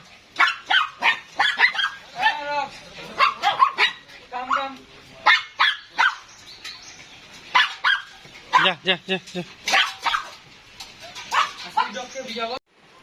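A dog barks in short, repeated bursts at close range, mixed with people talking throughout.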